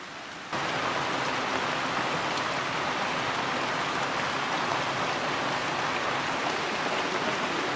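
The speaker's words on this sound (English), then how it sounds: "all of a sudden it started raining" Rain begins abruptly after a short quiet moment, then falls as a steady, dense hiss of drops on surfaces, with no voices.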